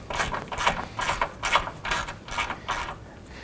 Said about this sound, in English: Now we want to go ahead and remove the 3 bolts that are securing this tank.